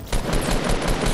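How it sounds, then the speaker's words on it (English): Rapid automatic gunfire in a video game, a quick burst of about six evenly spaced shots, loud and close, alone. "did they shoot me?"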